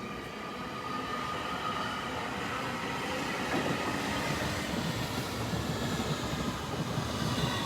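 A Class 802 train passes at Royal Oak Junction on the Great Western Main Line. Its loud, continuous rumbling roar of wheels on rails stays close and constant throughout, with no voices.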